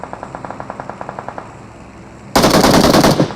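Automatic gunfire from a video game firefight rings out, a steady run of evenly spaced rapid shots at moderate level, then a much louder, dense, sustained burst of fire near the end.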